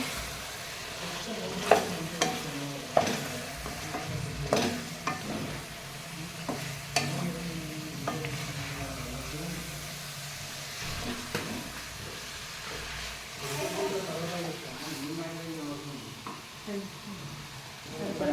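Chicken pieces frying in a pan are stirred over and over, giving a sizzle with repeated sharp scrapes and clatters of the utensil, close and fairly loud, with a faint voice now and then.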